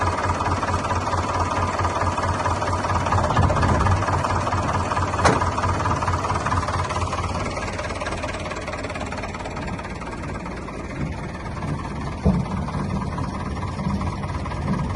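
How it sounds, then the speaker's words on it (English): A tractor runs steadily with its PTO engaged, driving a freshly repaired and oiled slasher (brush hog), giving a continuous mid-pitched engine drone with a couple of sharp knocks partway through. "we'll turn the tractor on, we'll put the PTO in, and we'll just see if it makes any horrendous noises"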